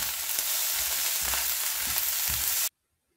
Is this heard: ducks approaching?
no